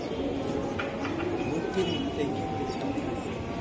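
A racing pigeon coos softly at a pigeon seller's, its low throaty calls rising under the voices of people talking nearby.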